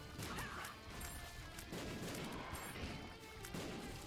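Bombs in The Binding of Isaac: Afterbirth+, including glitter and scatter bombs, go off in a rapid run of crunchy blasts and crashes, layered over continuous game noise with no pause between hits.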